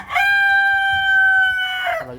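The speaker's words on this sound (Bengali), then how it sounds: "এই যে মুরগিগুলো এই পাহাড়ি মুরগি থেকে এই মুরগিগুলো অলমোস্ট প্রায় তিন ভাগের দু ভাগ" A rooster on a farm keeping hill and local chickens crows once, loud and close, a long sustained call that lasts nearly two seconds with a clipped ending, and little else around it.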